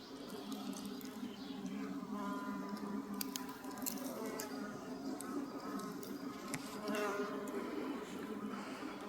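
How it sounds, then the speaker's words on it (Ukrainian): A steady, low droning hum of a large colony of black honey bees buzzing together, with occasional brief clicks and rustles close by. "Це найбільше із мені відомих колоній чорної бджоли."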